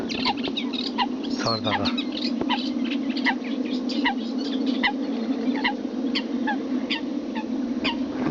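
A hunting decoy caller plays a coot call beside Sarısu lake during a duck and coot hunt. The short, sharp calls repeat steadily over a constant low hum, and a voice speaks briefly.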